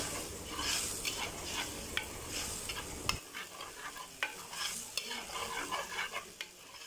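Amla pickle masala sizzles in hot oil as a spoon stirs it in a pan, steady frying crackle with repeated scraping strokes, close and fairly quiet, no voices.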